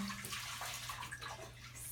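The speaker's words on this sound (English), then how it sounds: "I like to use chicken broth, so I'm going to pour the whole" Chicken broth, six cups' worth, pours steadily into a soup pot, a continuous close liquid rush with a low hum beneath it and no talking.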